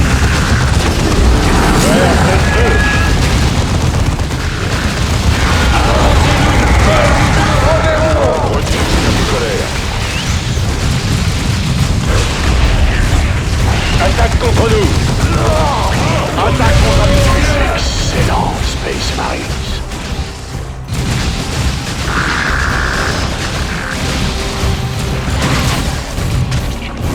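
Space Marines opening fire in the Dawn of War strategy game, with dense, loud gunfire bursts and booming explosions that carry on for a long stretch over a constant battle din.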